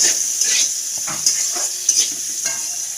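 Bitter gourd and kakrol frying in a pan at home, a steady loud sizzle with bursts of stirring and scraping spread through it and no voices.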